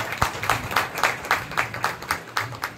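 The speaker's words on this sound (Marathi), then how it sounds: "सगळ्यांनी आपण जोरदार टाळ्या" Steady rhythmic clapping from an audience at a kirtan performance, honoring the accompanists, with evenly spaced claps about every quarter second, moderately loud and close.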